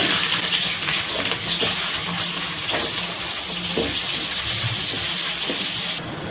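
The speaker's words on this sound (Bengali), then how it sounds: "এবারে আগে আমি আলুটা দিয়ে দিচ্ছি তেলের মধ্যে।" Potato strips go into hot oil for a Bengali prawn and Malabar spinach curry, giving a loud, steady hissing sizzle that carries on close up and eases slightly near the end.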